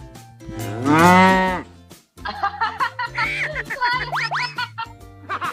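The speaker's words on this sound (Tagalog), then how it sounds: "Kalabaw, anong kalabaw?" A water buffalo (carabao) gives one long, loud, close low at the start, followed by a stretch of speech with pitched, animated voices.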